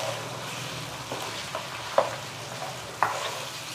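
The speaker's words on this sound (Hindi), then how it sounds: "लहसुन अदरक का पेस्ट डालकर इसको हम मज़ीद 2 से 3 मिनट के लिए अच्छे से भून लेंगे" Mutton frying with garlic-ginger paste in a pot, a steady low sizzle with occasional stirring scrapes and a couple of sharper clinks, close and alone with no talk.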